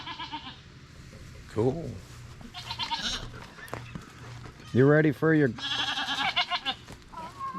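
Goats on a farm bleat several times, with one wavering cry early on and two loud close bleats in quick succession near the middle, amid people chatting and background rustle.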